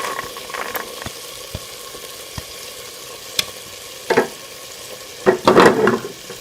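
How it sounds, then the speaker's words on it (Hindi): Mixed vegetables go into frying chicken masala, giving a soft sizzle with clattering stirs and bursts of scraping, louder toward the end. "चिकन के मसाले के साथ सारी सब्जियों को डाल देंगे"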